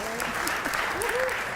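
Church congregation applauding at a religious gathering, a steady wash of clapping with voices mixed in, moderately loud and brief.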